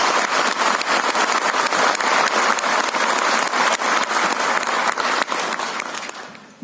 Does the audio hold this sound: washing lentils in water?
no